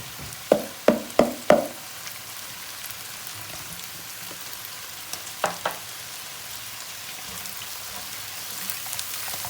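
Washed rice goes into a hot pot of oil, four quick sizzling bursts in a row, then a softer pair of crackles and a low steady frying hiss, close and clear with no voices.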